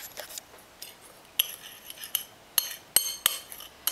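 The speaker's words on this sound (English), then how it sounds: "I'm going to stir that all together" Sugar, cinnamon and ginger stirred together in a bowl for vegan cinnamon, ginger and nut palmiers, heard as light scattered clinks and taps of a spoon against the dish, close and fairly quiet.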